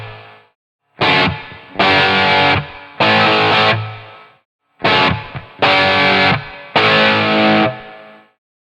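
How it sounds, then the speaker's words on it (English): Heavily distorted electric guitar in a classic rock tone with plate reverb, playing loud sustained chord stabs in two groups of three with brief gaps between, alone with no talk. "Let's go ahead and add in the plate reverb."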